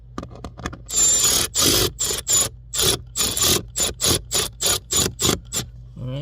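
Screws being driven into the plastic housing of a blower motor on a GM crossover such as a Chevy Equinox or Pontiac Torrent, a run of short whirring bursts with brief pauses, close and fairly loud, with no talking.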